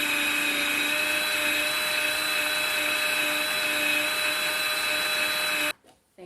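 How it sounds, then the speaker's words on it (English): A food processor blends a chocolate coconut ball mixture with coconut oil and a pinch of salt, making a loud, steady motor whir that stops abruptly near the end. "And then you take your food processor, combine everything."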